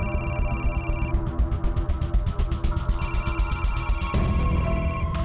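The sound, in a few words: telephone ringing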